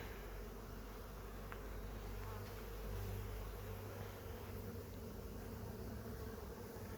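Honey bees around a new hive in an apiary on a warm spring day. A faint, steady swarm drone holds throughout, with a low hum underneath and no talk.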